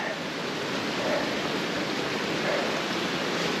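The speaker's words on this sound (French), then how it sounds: "et le chemin est devenu un petit ruisseau" Rainwater runs down a mountain hiking trail in Ariège that has turned into a small stream, a steady, close rushing and gurgling wash with no pauses.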